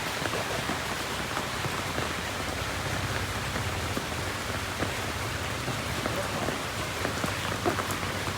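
Heavy monsoon rain pours steadily and loudly during a rainy-season fishing outing, a dense, unbroken hiss of drops on surfaces with no pauses and no voices.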